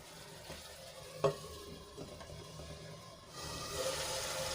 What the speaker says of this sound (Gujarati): તેલમાં સંતળાવા દઈશું આપણે એને ફરીથી ઢાંકીને થોડી વાર માટે ચડવા દઈશું